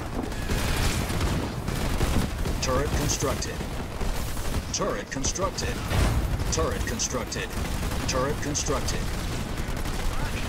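Battlefield gunfire in Halo Wars 2 crackles continuously under loud, dense combat noise with rumbling blasts, while radio-style voices speak over the fighting.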